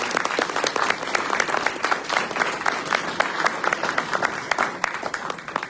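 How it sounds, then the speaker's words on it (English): An audience at an Idaho District 21 legislator town hall gives a sustained round of applause, with dense, even clapping filling the room throughout. "Let's give them all a round of applause,"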